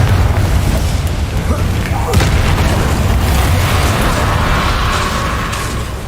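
Spell explosions from a Confringo blasting curse in Hogwarts Legacy, with a sharp blast near the two-second mark over a dense, continuous rumble of game combat that stays loud throughout.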